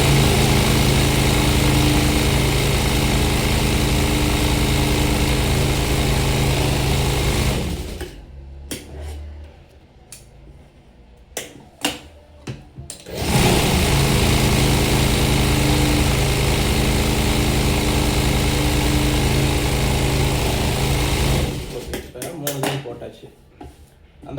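Sewing machine stitching a blouse, a loud steady mechanical whir that runs, stops for a short pause with scattered clicks, then resumes and stops again.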